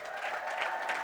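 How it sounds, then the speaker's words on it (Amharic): A church congregation applauding with ululation, a dense, steady wash of clapping and trilling voices filling the room for a moment. "እስቲ እልልታ ጭብጨባ።"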